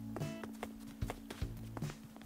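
In Animal Crossing New Horizons, a villager walks with soft, evenly spaced footsteps in a gentle clip-clop rhythm, quiet and close, over faint background game music.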